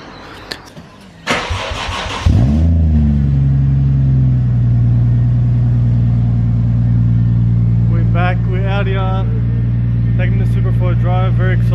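A Lexus IS300 engine cranks and starts, then settles into a steady loud idle close by, with a person talking over the running engine in the later seconds.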